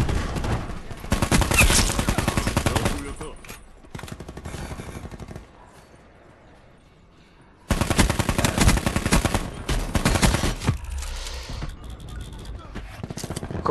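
Rapid automatic fire from the SWAT RFT rifle in Call of Duty Black Ops 4 comes in two long, dense bursts separated by a quieter lull, loud and close, with a player talking over the gameplay.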